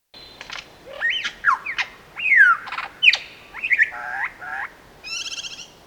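A superb lyrebird sings in Australian bush, a varied run of loud whistles, sharp chirps and sweeping mimicked notes in short bursts, close and clear against a quiet background.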